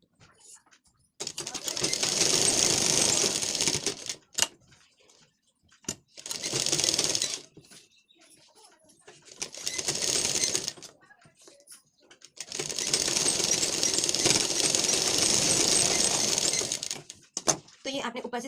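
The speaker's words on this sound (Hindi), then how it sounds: "इसमें हम ऊपर से एक और सिलाई लगा लेंगे" Sewing machine running in several bursts while stitching an extra seam on a lined blouse, the steady whirring stopping and restarting at close range with quiet pauses between runs.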